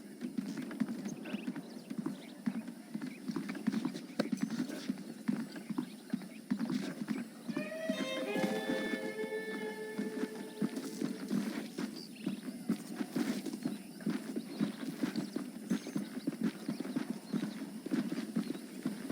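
Steady hoof clip-clops of a horse walking in the video game Red Dead Redemption, with a brief whinny partway through, over a constant low rumble.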